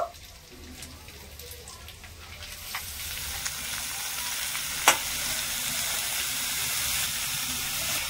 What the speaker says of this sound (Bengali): এই কুচিয়ে রাখা বাঁধাকপিটা দিয়ে দেব